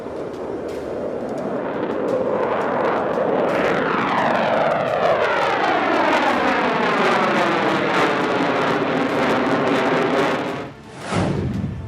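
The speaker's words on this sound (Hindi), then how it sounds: "घातक लड़ाकू विमान जिन पर है देश को अभिमान।" Rafale and F/A-18 Hornet fighter jets fly past with a loud, sustained jet roar that sweeps in pitch as they pass, then briefly cuts off near the end before returning.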